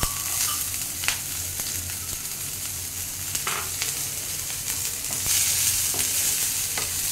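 Chopped garlic and green chilli sizzle in hot oil in a pan, a steady, close crackling hiss broken by occasional scraping stirs, with no voices.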